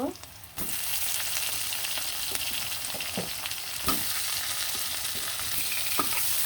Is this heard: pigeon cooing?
no